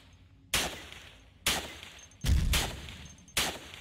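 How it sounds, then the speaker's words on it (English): A turret in Cataclysm DDA fires four separate rounds spaced about a second apart, each a sharp loud crack with a brief tail over near silence. "It's actually pretty impressive that the round is firing off of the turret."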